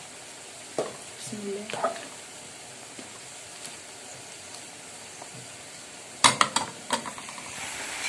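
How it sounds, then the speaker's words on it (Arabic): Pasta for Egyptian koshari boils in a pot and is stirred, giving a faint bubbling bed with scattered utensil clinks and scrapes, and a brief spoken phrase near the start. "وهنا المكرونة بتغلي معانا اهي، بنقلبها كل شوية"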